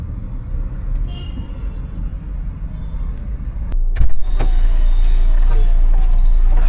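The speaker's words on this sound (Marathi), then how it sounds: "आता गाडी काय सुजाट पळती नुसती" A car driving along a road, a steady low engine and tyre rumble throughout, with a couple of sharp knocks around the middle before the drone grows louder and fuller, heard from inside the vehicle.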